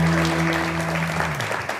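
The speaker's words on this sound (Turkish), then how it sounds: "Hanımlar, beyler, Deniz Işın ve Sarp Bozkurt alkışlıyoruz" Studio audience applause welcoming guests onto a Turkish late-night talk show, a dense, steady wash of clapping from many hands that holds throughout and then thins slightly at the end, over low background music.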